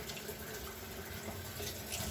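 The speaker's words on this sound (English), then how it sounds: "So as they break apart, you just keep rinsing." Sea moss rinsed under a running kitchen tap, a quiet, steady wash of flowing water splashing into a sink with no break, with no talking over it.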